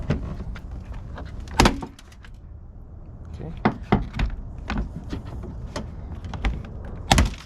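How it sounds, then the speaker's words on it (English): Plastic front panel of a 2023-2024 Chevrolet Colorado pried loose after its bolts are undone, giving a series of sharp close clicks and knocks with rustling handling noise between them. "let's try to see if we can pry this open"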